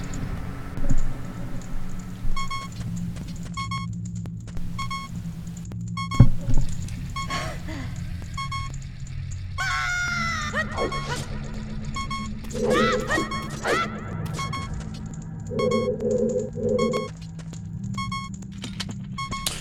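Incessant electronic beeping from the Ocarina of Time Master Quest video game repeats in short evenly spaced pulses, mixed with game sound effects and button clicks throughout.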